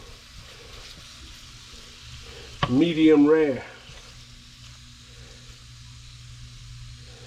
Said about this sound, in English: And let that sizzle like that.